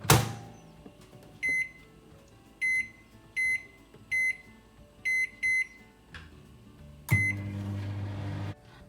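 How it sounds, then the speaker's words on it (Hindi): A microwave oven heats baked beans. A run of short, high electronic beeps from the keypad comes first, then a clunk as the oven starts and a steady low hum. "यहाँ पे आपने बीन्स को माइक्रोवेव में थोड़ा सा गर्म कर लेना है।"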